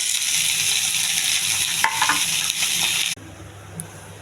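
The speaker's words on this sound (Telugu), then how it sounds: "ఉల్లిపాయ వేగిందండి." Onion fries in hot oil with cumin, mustard seeds and curry leaves for a bean, cauliflower and pea curry, giving a close, steady sizzle with light stirring clinks.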